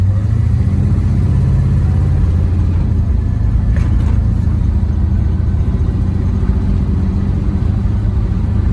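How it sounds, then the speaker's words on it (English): A 1953 Chevrolet Suburban truck's V8 engine rumbles loudly from inside the moving vehicle, a steady deep drone with mild swells as it pulls along. "Plenty of power in this engine."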